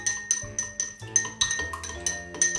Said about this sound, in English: So we're going to stir that up